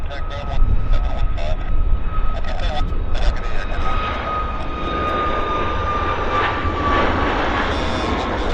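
A WestJet airliner landing at Vancouver Airport, a broad steady engine roar with a thin high whine holding throughout, fairly loud and continuous at moderate distance.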